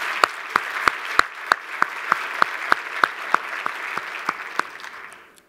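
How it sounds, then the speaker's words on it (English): Audience applause at the 2015 Extra Yard For Teachers Summit, a steady wash of clapping with sharp, evenly spaced claps standing out in a rhythmic beat before fading away at the end. "Let's just give them a round of applause"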